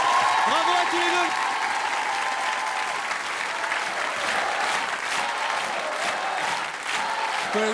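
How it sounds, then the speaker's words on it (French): Enthusiastic audience applause for two children on roller skates in a studio, continuous dense clapping throughout, with voices and cheering heard over it at moments. "On peut les applaudir très fort"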